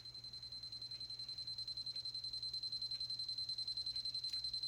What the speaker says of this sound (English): I have an alarm clock here, so somebody clearly set the alarm